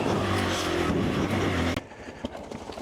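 A motorcycle engine labours loudly on a steep climb on the Uludağ trail from Bağlı, a strained, rough drone for under two seconds before it abruptly cuts out and leaves near quiet.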